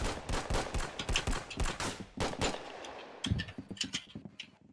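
Hand cannon gunfire in a Roblox shooter game: a dense volley of sharp, punchy shots fired in rapid succession, loud and close, with no talking over it.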